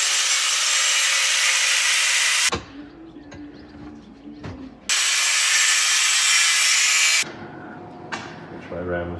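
A panel section on a BMW E36 M3 is cut away with a power tool in two loud, harsh bursts of grinding, each lasting a couple of seconds. Quieter shop noise and a voice fill the pauses between them.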